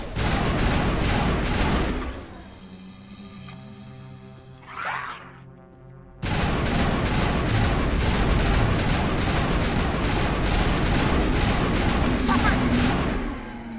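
Shotgun fire in the video game Mass Effect Legendary Edition: dense, rapid volleys of booming shots fill the first two seconds, pause during a quieter stretch with a single whoosh, then resume as sustained gunfire to the end.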